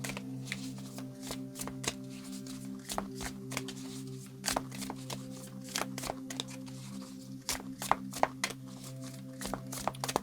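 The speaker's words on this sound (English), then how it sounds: "I've been shuffling for a while" Tarot cards are shuffled repeatedly, a steady run of crisp riffles and soft slaps close by, over a low constant electrical hum.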